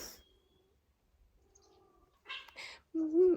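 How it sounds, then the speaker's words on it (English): Cats fighting somewhere in the background indoors: quiet at first, then a couple of short scuffling bursts followed by a louder, wavering yowl near the end, faint and distant overall. "we got cats fighting in the background."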